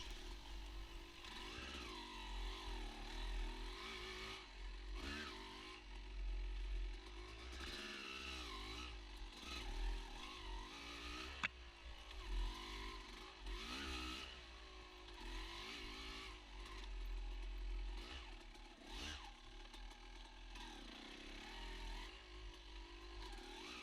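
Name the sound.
motorcycle riding on an off-road trail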